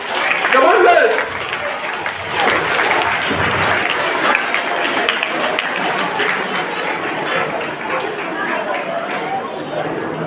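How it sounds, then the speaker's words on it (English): An audience at a welcome ceremony for a guest of honour applauds, with dense sustained clapping filling the room and a voice briefly speaking at the start over the crowd. "Let's pay a minute of applause."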